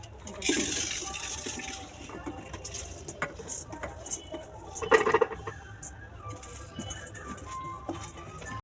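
A cooking pot holding washed rice is set down at home with a few soft metallic clunks and scrapes, quiet and close, surrounded by faint clatter of kitchenware.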